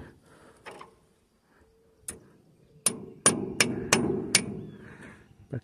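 Pliers used as a hammer during field repair of a Massey Ferguson MF 95X tractor arm: a few scattered taps, then a quick run of five sharp metallic clangs close by, without talk.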